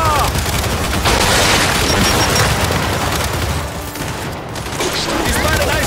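Heavy, sustained gunfire and explosions aimed at a drone in the Gears 5 video game, a dense, loud volley that eases briefly near the end, with a voice shouting over the battle.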